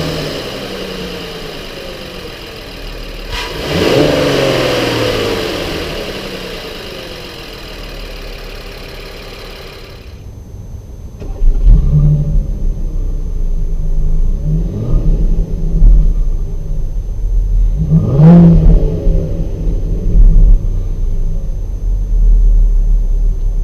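The 3.6-liter VR6 V6 of a 2018 Volkswagen Atlas idles with a steady rumble, then is blipped in several separate revs that rise and fall, each one loud and close, with no talking.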